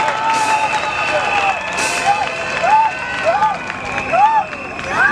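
A crowd applauds and cheers for Marthe Tshisekedi, with loud clapping and babble under a voice speaking over them and rising whoops and ululating cries.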